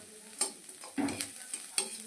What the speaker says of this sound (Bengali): এখন সবজিটা ভাজা চলছে।